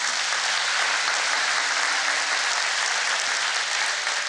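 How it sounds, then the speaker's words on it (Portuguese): Sustained applause from a church congregation during a sermon, a dense, steady wash of many hands clapping at even loudness for the whole stretch, with no one talking over it. "Você vai dar uma salva de palmas?"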